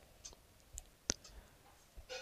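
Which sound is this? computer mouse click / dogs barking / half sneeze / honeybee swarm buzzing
computer mouse click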